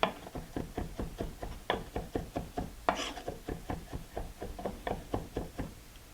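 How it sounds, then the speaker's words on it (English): A knife chops fruit coarsely on a wooden board, giving a steady run of about twenty crisp knocks, close and fairly loud, with no talking over it. "now I'm going to chop it coarsely like that"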